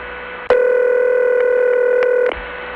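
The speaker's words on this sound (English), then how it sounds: "Now the recording leads to the receiver off hook tone, which leads back to the high tone." A steady telephone line tone on a long-distance trunk into New York State's 315 area, the receiver-off-hook tone returning to a high tone, sounds loud and continuous for about two seconds, starting and stopping abruptly.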